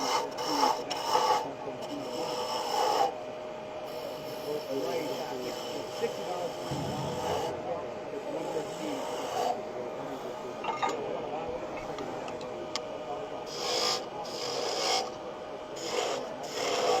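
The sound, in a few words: roughing gouge turning wood on a lathe, making a honey dipper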